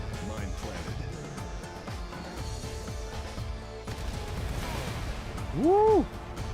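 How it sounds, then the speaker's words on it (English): A planted mine detonates in a first-person shooter, a burst of booming blast noise amid ongoing gunfire and game effects, with a player talking over the action. "What an explosion"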